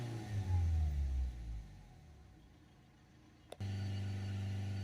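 A Ford Transit Custom van with a blocked DPF revs at full acceleration, a loud low engine surge that winds down to a quieter idle, then a click and a steady low hum.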